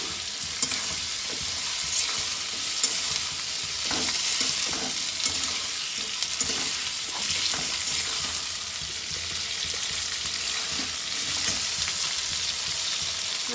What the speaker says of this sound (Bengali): আমি আরেকটু ভাজা ভাজা করে দেবো খুব বেশি ভাজবো না